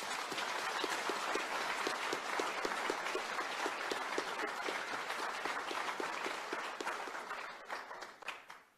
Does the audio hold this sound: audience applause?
yes